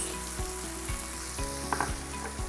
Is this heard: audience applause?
no